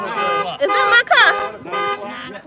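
A parked car's alarm sounds outdoors near a forest, with repeating warbling, honking tones in separate bursts, loud and close, and people talk over it.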